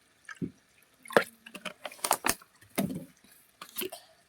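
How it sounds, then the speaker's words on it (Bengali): Rose water going into a pot of chicken biryani gives a handful of close, separate liquid drips and small splashes, spaced irregularly over a few seconds. "দিয়ে দেবো গোলাপ পানি,"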